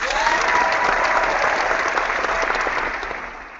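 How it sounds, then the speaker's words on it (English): Steady applause from a crowd, dense clapping throughout that fades slightly at the end. "let's give an opening round of applause"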